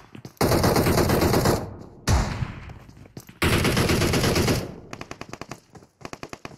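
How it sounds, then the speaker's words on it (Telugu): Loud bursts of automatic gunfire in the video game PUBG Mobile, two long sustained volleys followed by a string of short rapid shots, close and without any talk. "యేషు ఆ గన్తో ఏం షూట్ చేస్తాడు ఆయన?"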